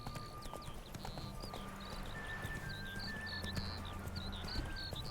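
Roach the horse gallops in The Witcher 3, with hooves pounding in a quick, steady clip-clop. Light birdsong chirps above them throughout, and a brief whinny joins in.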